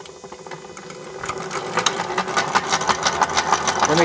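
A Hyper9 electric motor fitted as a boat outboard runs with a steady whirring hum and rapid mechanical rattle that grows louder and busier after the first second, close up with no talk.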